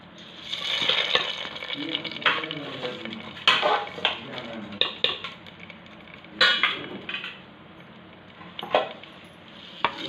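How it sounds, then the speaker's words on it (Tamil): Tempering spices for snake gourd kootu crackling in a hot pan, mixed with clinks and scrapes of a spoon against the cookware in uneven bursts, close by, with brief voice sounds. "தாளிப்பு போட்டுக்கலாம்"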